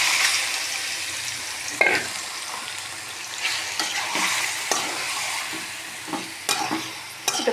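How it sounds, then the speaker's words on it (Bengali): Small kachki fish fry in hot oil in a wok with no water added, crackling softly while a spatula scrapes and stirs in sharp, irregular strokes close by. "এটাতে কোনো পানি টানি কিছু দিব না, এটাকে শুধু তেলের উপরে ভাজবো।"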